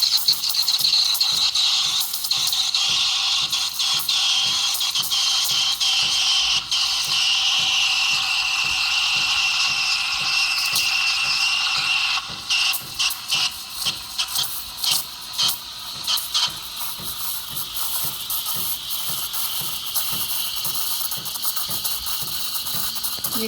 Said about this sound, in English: slightly lower your jug to introduce the air into the milk. While stretching, you have to do the texturizing.